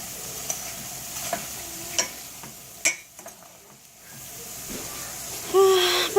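Cinnamon sugar tortillas frying in a pan give a steady soft sizzle, with scattered light clicks of stirring and a louder spitting burst near the end.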